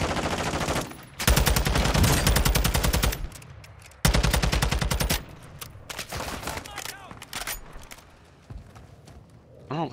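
Automatic gunfire in the Warzone shooter, two long rapid bursts of rattling shots followed by scattered single shots and quieter battle noise.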